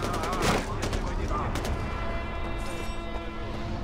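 Gunfire in Far Cry, a loud close shot burst at the start trailing into scattered crackling shots and a dense combat din, with a voice speaking over the action.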